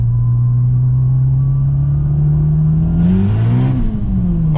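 A tuned 600hp Honda Civic Si spins its tires on cold pavement, its engine droning steadily and then revving up and back down near the end, loud and close throughout.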